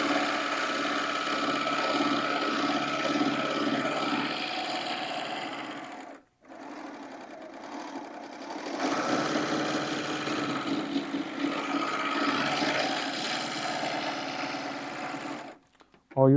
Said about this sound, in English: So if we go to use our serger now, it catches all your trimmings.